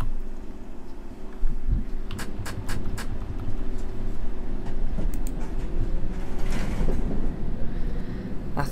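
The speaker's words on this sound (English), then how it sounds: "This train is ready to depart." A London Underground train departs in a simulator game, with a steady low mechanical hum and rumble building as it moves off, crossed by sharp clicks and clacks of track and mechanism.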